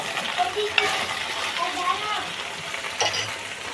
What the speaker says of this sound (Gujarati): હવે દાળ મારી ઉકળી ગઈ છે હું એનો વઘાર કરી નાખું